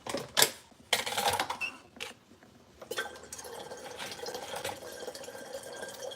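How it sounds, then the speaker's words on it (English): Water from a sink tap runs into a kettle, with sharp clanks and bumps of the kettle at the start and then a steady splashing stream of filling water. "I'm gonna fill it up a little bit more with water."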